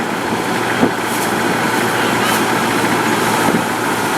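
A vehicle engine mounted across the front, belt-driving a small gearbox and prop shaft, runs with a steady, loud, even drone throughout, filmed while backpacking in Thailand in 1999.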